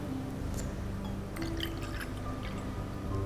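Almond milk is poured into a spelt and oatmeal scone mixture, giving faint liquid trickles and soft drips over a steady background hum.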